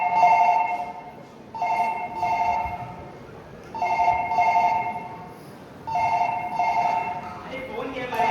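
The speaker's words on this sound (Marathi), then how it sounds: "अरे फोन घे मरे" A telephone rings in repeated double-burst patterns during a Konkani stage play in Goa, steady and moderately loud, with people talking and background murmur underneath.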